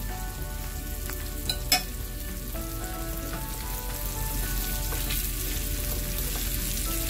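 Creamy caramelized onions are stirred into sizzling sausages and red potatoes in a hot pan, with a steady close frying hiss and a few soft scraping clicks from the spoon early on.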